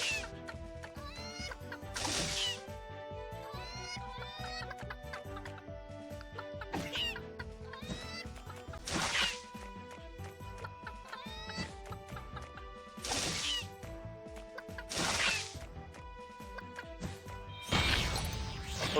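Chickens cluck repeatedly in the action RPG Secrets of Grindea, their calls mixed with game music and bursts of crashing hit effects as the birds are struck, steady and fairly loud throughout.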